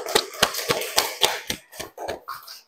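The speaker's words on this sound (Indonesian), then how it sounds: "tepuk tangan untuk kelompok 2" A classroom group gives a rhythmic unison clap of about ten evenly spaced, crisp claps that gradually loosen near the end.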